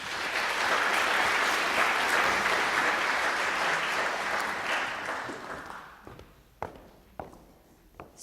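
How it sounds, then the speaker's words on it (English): Audience applause for a speaker at a computer science lightning talk event, a full, steady round of clapping that fades after about five seconds into scattered claps and footsteps, with no talking. "let's give a round of applause to Isabel Wong."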